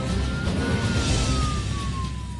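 Fire engine siren wailing steadily during a Boeing 747 brake test on a runway, a single slowly falling tone riding over loud, constant broadband rumble and noise.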